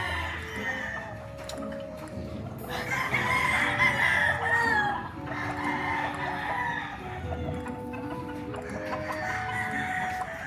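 Chickens on a gamefowl farm, with a rooster crowing loudly and close by over steady clucking and background farmyard noise.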